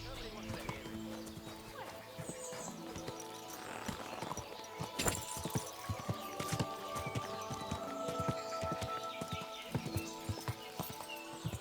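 Horse hooves clip-clop steadily at close range in the medieval video game Kingdom Come: Deliverance II, with a whinny in the mix and game characters talking over the rhythmic footfalls.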